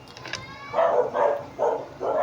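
A dog barks four times in quick succession, close and fairly loud, each bark a short mid-pitched burst after some faint high whining at the start.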